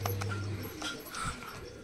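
Soft, low cooing of a female pigeon close by, a few brief murmured calls over faint background noise.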